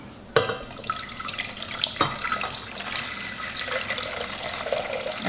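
Tap water runs steadily into a container to measure a quart of water for sugar syrup, a continuous splashing rush after a sharp start, close and moderately loud.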